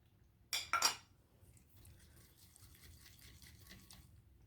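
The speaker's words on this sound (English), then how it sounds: "my vanilla likes to stick to the bowl, so I got to scrape it right out" A utensil scrapes and clinks against a mixing bowl while vanilla is worked free, making two short sharp bursts close by. Faint kitchen background noise follows.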